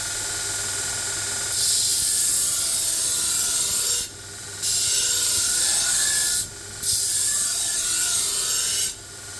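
Belt grinder sharpening a Dalstrong knife blade on the platen, a steady loud grinding rasp that runs continuously with three brief pauses as the blade lifts off the belt.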